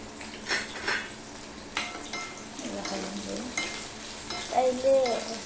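Two onions tossed into a pan with chillies, garlic, curry leaves and coriander, scraped and stirred with clinking utensils over a soft sizzle, with a brief metallic squeal near the end.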